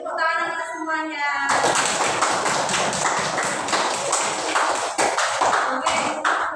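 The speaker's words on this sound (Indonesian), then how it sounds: "Oke, tepuk tangan anak semuanya." Classroom of children breaks into loud, dense hand clapping after a brief spoken cue, sustained for several seconds close by.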